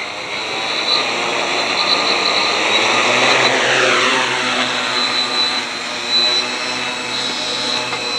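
Motors of a stretched Hobbyking X650F multirotor drone whine steadily and loudly as it takes off, with a rising and falling pitch sweep and no talking.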